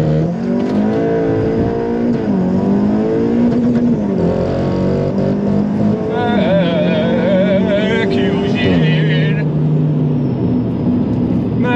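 A 510 BHP Audi S3 8V launches hard from a standstill, its engine note climbing loud and close through gear changes while a voice talks over the acceleration.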